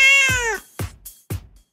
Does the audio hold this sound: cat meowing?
yes